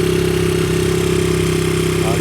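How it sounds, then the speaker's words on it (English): A 1992 Honda XR80R motorcycle engine with a freshly rebuilt top end holds a steady high idle during break-in, a close, continuous buzzing putter that stays even throughout. "You can see her there idling away. It's at a high idle now because it's doing a break-in period."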